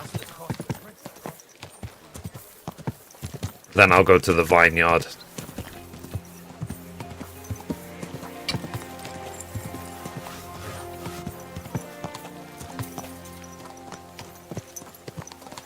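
Horse hooves clip-clop at a steady trot in Kingdom Come Deliverance 2, a continuous rhythmic patter under a voice talking throughout, with a brief louder burst partway through.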